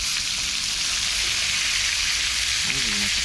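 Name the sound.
food sizzling in frying pan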